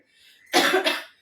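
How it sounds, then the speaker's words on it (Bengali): A person who is ill gives a single loud, close, rough cough in two quick bursts, alone without speech. "ভীষণ কাশি হচ্ছে আর গলা"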